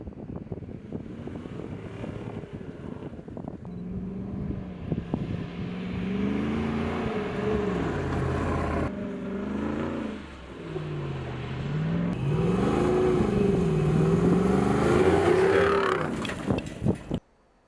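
A roof-off 2021 Jeep Wrangler Rubicon 392 with its V8 engine revs up and down in rising and falling sweeps, loud and close, with some wind buffeting and a brief dip midway before the engine cuts off.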